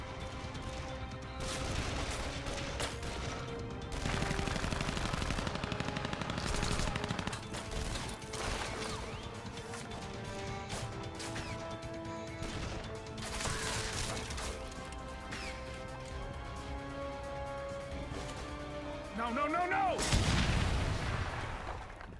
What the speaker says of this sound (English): The guns actually sound just like in Dead Island.